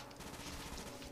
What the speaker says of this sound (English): Double tap on an AK just sounds so good